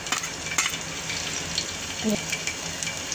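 Garlic cloves and chopped green chillies fry in a spoonful of oil on a hot tava griddle, giving a close, fairly quiet, continuous sizzle and crackle with no speech.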